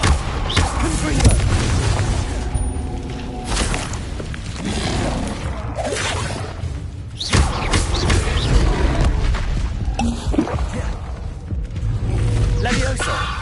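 Repeated Confringo blasting-curse explosions from Hogwarts Legacy, heavy booming bursts landing every few seconds over a dense, continuous wash of game combat noise, with a voice talking throughout.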